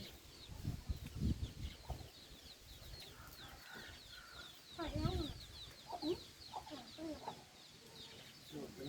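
Chickens cluck and a rooster calls outdoors at a rural Thai home, a scattered series of quiet clucks and squawks mixed with faint background voices and rustling.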